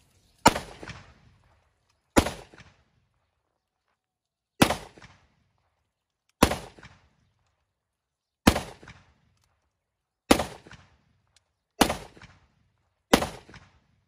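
A Zastava 30-bore pistol fires a magazine at a carton target. Eight sharp, loud single shots ring out at steady intervals of about two seconds, and each one decays quickly into silence.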